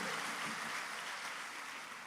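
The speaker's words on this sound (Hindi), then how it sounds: "एक बार तालियां बजा करके माहौल दे दीजिएगा" Audience applause at a Hindi poetry recital, a steady, dense wash of many hands clapping at once, held evenly at one loudness for about two seconds with no voice on top.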